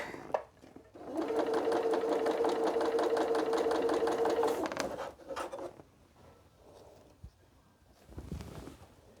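Sewing machine stitching quilt pieces with a leader ender, a loud steady run of rapid needle chatter for a few seconds, then stopping with small handling clicks and rustles.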